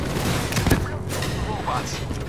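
Rapid gunfire and explosive booms fill a Call of Duty: Black Ops 3 firefight on PS4, a dense continuous barrage of shots with a loud burst near the start, mixed with faint voices and battle noise.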